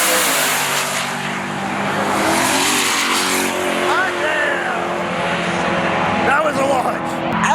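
Loud, sustained engine roar of cars drag racing past, including a Lamborghini Huracan STO at TX2K22, with brief tire squeals and people talking over the noise.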